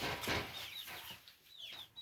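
Several chicks give high, bright chirps and peeps in quick, irregular bursts, close by, with soft rustling underneath.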